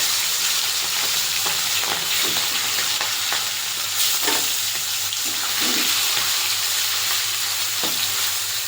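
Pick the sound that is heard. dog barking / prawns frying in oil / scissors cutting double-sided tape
prawns frying in oil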